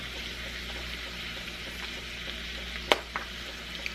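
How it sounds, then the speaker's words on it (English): Garlic sizzles and fries steadily in a pan, a close, even crackle with a couple of sharp clinks of a utensil near the end. "I'm just mainly cooking the raw garlic out of the garlic in there."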